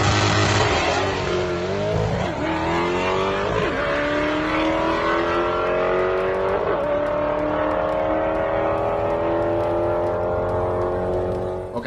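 A 347 all-motor car launching hard at a drag strip test and tune session, its engine roaring loud and close as it rises through the gears with rising pitch and sharp shift breaks, sustained without pause.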